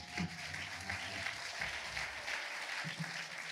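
Church congregation applauding together, a steady broadband wash of clapping from many hands that holds for several seconds with no speech over it.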